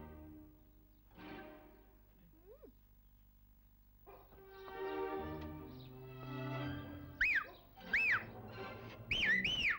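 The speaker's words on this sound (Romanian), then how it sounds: "Am rugat de atâtea ori să nu mai fluieri, doar nu ești băiat." A girl whistles indoors, giving a few short, bright rising-and-falling notes in quick succession near the end, after quieter household sounds and a faint voice.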